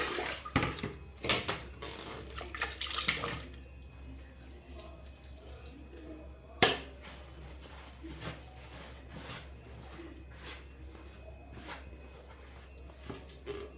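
Water being mixed into pumpkin chapati dough in a Kenyan kitchen: splashing and rubbing of wet dough, louder in the first few seconds with a sharp knock midway, then a low steady background hum with soft mixing sounds.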